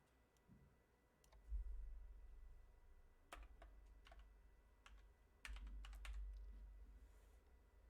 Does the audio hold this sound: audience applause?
no